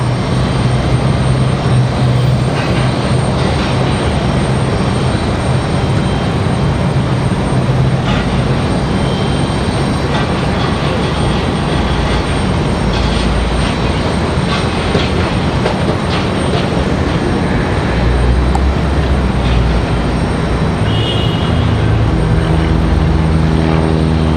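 A WestJet airliner taxiing at Raleigh-Durham airport gives off a loud, steady engine rumble and roar that holds throughout, with a constant broadband drone close by.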